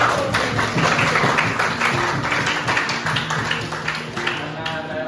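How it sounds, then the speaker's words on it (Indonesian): Students in an Indonesian classroom clap their hands together for the whole class, a steady run of many overlapping claps lasting several seconds, close and fairly loud. "boleh tepuk tangan untuk kita semua"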